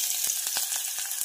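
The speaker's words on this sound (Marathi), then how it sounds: "यामध्ये घालायचा आहे बारीक चॉप केलेला कांदा" Finely chopped onion sizzles in hot oil with whole spices, a constant bright hiss broken by several soft taps of stirring over a brief moment, with no voices.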